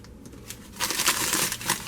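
Crinkling tissue paper, part of a packed makeup gift box, rustles in a quiet room, starting soft and swelling into a louder, sustained crackling burst for the last second.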